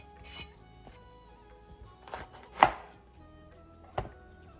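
A knife strikes a cutting board as vegetables are chopped fine in a home kitchen, a few separate, sharp knocks spaced irregularly with quiet between them.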